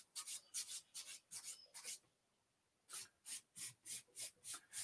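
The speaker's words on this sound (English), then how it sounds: "remember the edges are always the thinnest, and remember you need to tilt your file" A nail file rasps at a hard gel nail in quick, even back-and-forth strokes, a run of faint, close scratches, a pause of about a second, then another steady run.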